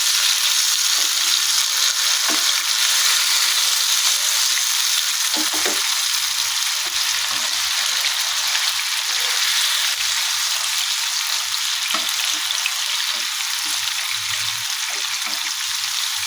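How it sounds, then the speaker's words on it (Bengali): Chicken pieces fry over high heat in a pan, giving a loud, steady, close sizzle with a few light clicks as they are turned, and no voices. "চিকেনটা দিয়ে চুলোর আঁচটাকে একদম জোর দিয়ে এপিট ওপিট করে একবার ভেজে নেব।"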